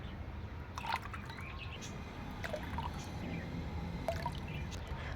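Anti-chlorine water conditioner poured by the capful into an aquarium tank, heard as faint trickling and a few small drips over a low, steady background wash.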